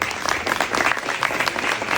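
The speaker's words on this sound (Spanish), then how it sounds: "Un aplauso para Carlos, por favor." Steady applause from a small crowd welcoming a speaker at a Movember talk, dense clapping that holds at an even level throughout without cheering or voices.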